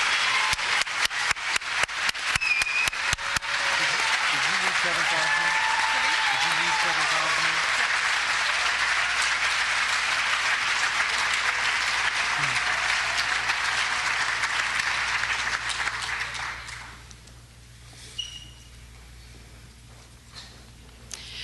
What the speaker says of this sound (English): A round of applause for our outstanding writers.